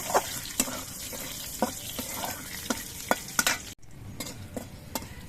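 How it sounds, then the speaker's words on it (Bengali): Green chillies and nigella seeds fry in oil in a pan, a close sizzling hiss broken by sharp pops and spatters at irregular intervals, with no voices. "এবারে এই তেলের মধ্যে দিয়ে দিচ্ছি চারটে কাঁচা লঙ্কা আর অল্প করে একটু কালো জিরে"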